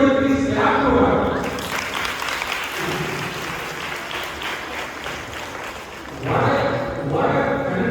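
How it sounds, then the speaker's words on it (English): An audience at a high school National Space Day event in Bandra gives a student a sustained burst of applause lasting several seconds, with a voice speaking just before and after it. "I request everybody please clap to her."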